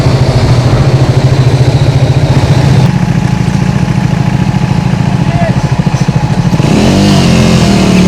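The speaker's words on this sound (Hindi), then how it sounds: "न्यूट्रल में बाइक छोड़ दी है, अपने आप चलती रहेगी क्योंकि पूरा डाउनहिल ही है।" A Triumph Speed 400 motorcycle coasts downhill in neutral on a mountain road, its engine idling in a steady low pulsing throb under heavy rushing wind noise, with a slight shift in tone near the end.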